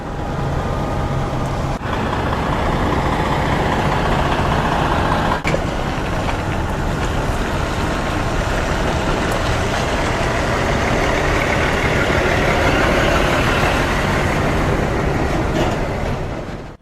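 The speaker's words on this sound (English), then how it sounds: "breathing in the fumes of the diesels and the trucks, and listening to these sounds." Heavy diesel trucks idle in a steady, loud rumble, with a couple of sharp clanks standing out against the constant drone.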